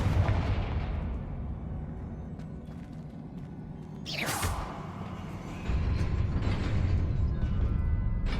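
A Confringo fire-spell blast goes off in Hogwarts Legacy, a sharp burst over a steady rumbling game soundscape, followed by a louder swell of ambient noise.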